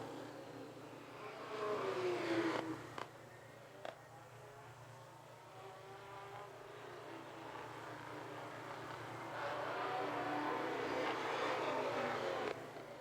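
Vintage race cars from 1994 vintage racing sweep past on a track, engines rising and fading in two distant, fairly faint pass-bys over a low steady background rumble.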